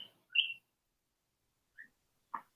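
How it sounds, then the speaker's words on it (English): Faint, brief bird chirps come in three separate bursts with silent gaps between, sounding somewhat distant. "I love to hear birds chirp."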